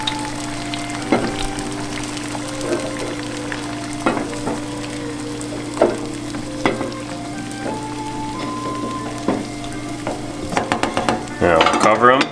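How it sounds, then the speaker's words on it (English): Eggs for ramen go into a pot of boiling water on a stovetop burner: a steady bubbling rumble with a hum underneath and several sharp clinks and knocks, ending in a busier clatter. "Alright, so the water's boiling. So we're going to throw our eggs in."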